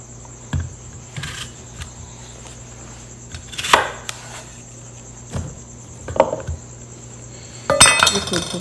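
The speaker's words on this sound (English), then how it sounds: "I'll cut up the apples as well. Just slice them" A knife slices apples for juicing, giving a few separate cuts and clunks against a board with pauses between them and a faint steady hum behind.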